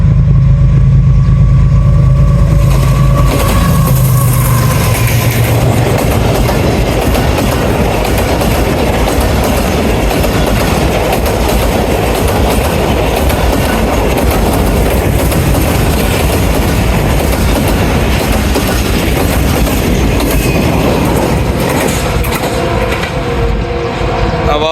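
Business Express train pulling into Jahanian station at night, a loud, continuous rumble of wheels and rolling stock with clickety-clack, close by and filling the whole stretch, with a few voices faintly under it.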